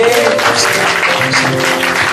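Applause for a church's instrumental team, musicians and worship leader, a dense, steady clapping from a congregation lasting throughout, with some musical tones and faint voices underneath.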